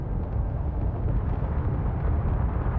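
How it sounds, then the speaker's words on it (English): Continuous deep, rumbling explosions in the video game Space Engineers, a dense, steady low roar filling the whole stretch with no pauses and no talking. "Why is there explosions downstairs?"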